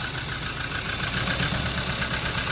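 A car engine idles roughly after a B12 Chemtool oil treatment, a steady close mechanical drone with a faint uneven pulse throughout.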